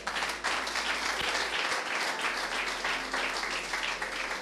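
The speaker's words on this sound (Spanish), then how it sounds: "¿Cuántos aplauden al Señor?" A church congregation applauds the Lord during a sermon, a sustained, fairly loud patter of many hands clapping together over a low hum.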